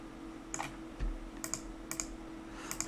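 Keyboard typing and mouse clicking at a computer while modeling in Blender: sparse, crisp clicks and key taps in short bursts over a low steady hum, close and moderately quiet, with no talking.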